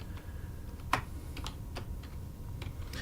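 Keys on a computer keyboard click in an uneven run of light taps, one louder press standing out, close and quiet against a low background hum.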